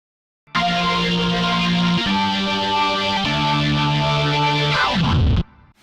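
A keyboard patch recreating a distorted organ sound through an amp simulator: thick, gritty sustained organ chords change a few times and end with a short falling smear, loud and alone with no talking.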